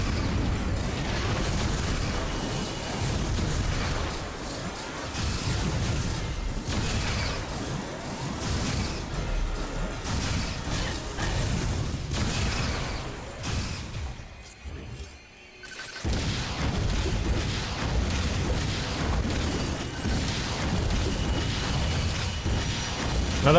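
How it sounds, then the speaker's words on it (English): A big explosion in the video game Metroid: Other M, heard as a loud sustained rumbling roar with mechanical clatter and bursts, briefly dropping away near the middle before surging back. "Oh, big explosion."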